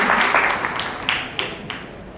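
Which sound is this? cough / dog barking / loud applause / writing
loud applause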